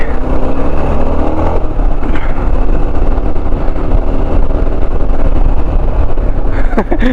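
A light Honda Shine or CD Deluxe motorcycle passes close by on a road during a ride, its engine drone loud and continuous under heavy wind roar from the rider's own bike.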